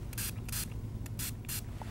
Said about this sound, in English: you want to go ahead and you want to spray some in your mouth